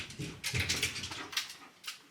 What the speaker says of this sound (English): There's also a dog here today.